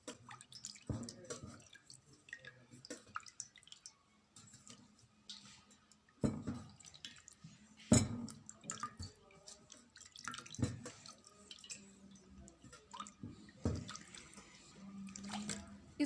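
Warm water runs from a tap over a face being washed clear of a homemade facial scrub, with steady trickling, drips and occasional louder splashes and squishes at close range, no talking.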